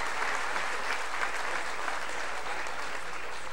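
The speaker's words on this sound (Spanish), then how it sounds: "un fuerte aplauso al compañero para que sigamos teniendo su apoyo" Sustained applause from the audience at an indigenous governing council swearing-in ceremony, a dense steady clatter of many hands, fairly distant and even throughout with no talk over it.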